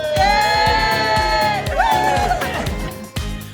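A virtual audience applauds and cheers for Hilton at an awards event, with loud whoops and shouts over a steady beat of music.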